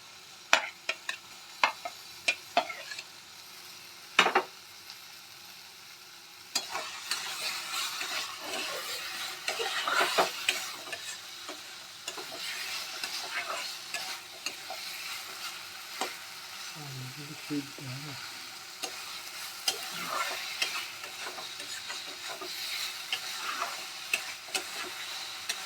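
Fried potatoes stir-fried in a spice masala in a pan, a steady soft sizzle with frequent scraping and clicking stirring strokes throughout, heard close with no talking.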